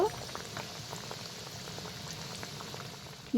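Semolina sweets deep-frying in hot oil over high-to-medium heat, a steady bubbling hiss with scattered small pops and crackles, close and continuous with no talk.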